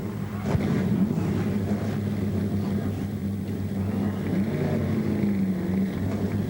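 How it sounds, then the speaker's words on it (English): Race car engines at Madison International Speedway during a 2002 American Speed Association event rumble together in a loud, continuous low drone, with a few rising revs over the steady roar. "Gentlemen, on behalf of BF Goodrich Tires, start your engines."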